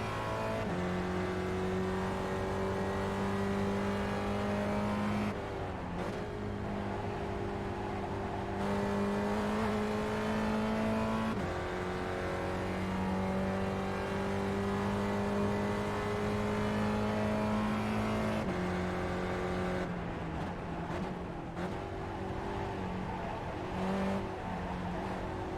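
Gen3 Spec Racer Ford race car engine in the iRacing sim drones loudly and steadily, pitch rising through the revs with brief dips at gear shifts and braking, heard from the cockpit with no talking.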